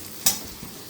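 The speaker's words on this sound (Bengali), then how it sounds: "তো আমি আর কিছুক্ষণ এটাকে ভাজা ভাজা করব" A single quick stir scrapes through potatoes and carrots frying with salt in a pan for poha, followed by a faint tail of sizzle and a soft later clink.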